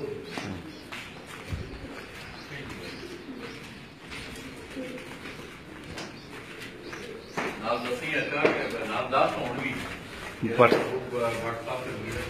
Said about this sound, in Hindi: भट्ट साहब होरां दे तुहानूं ब्रीडर कबूतर दिखा रहे हैं जी